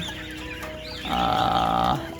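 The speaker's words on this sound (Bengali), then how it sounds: "এগুলো হচ্ছে আমার টাইগার মুরগির বাচ্চা।" A tiger chicken chick gives a short, loud, drawn-out cluck close by, over a soft background of other fowl and barn noise.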